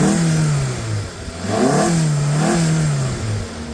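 A 2026 Maruti Baleno Zeta's 1.2-litre naturally aspirated petrol engine, about 88 bhp with a manual gearbox, is revved up and down several times, loud and close.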